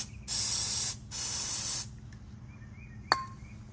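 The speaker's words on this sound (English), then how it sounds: "now I'm gonna go ahead and take and spray the bolt down with carb cleaner" Two close, loud bursts of carb cleaner sprayed from an aerosol can onto a bolt of a 2005 Honda Rancher ATV, each under a second, followed by quiet and a single small clink.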